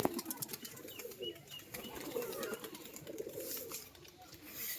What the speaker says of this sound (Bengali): মুর্শিদাবাদ পায়রা একবার দেখি ছাড়ছি